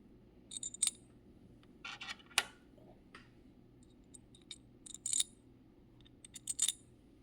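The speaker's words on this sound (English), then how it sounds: "now I'm going to take these 4 screws and stick them in here" Four small screws are handled and inserted while assembling a Swyft Drive, giving scattered bright metallic clicks and light clinks in short clusters against a quiet room, with no voices.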